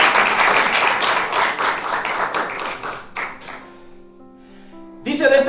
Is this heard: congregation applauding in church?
yes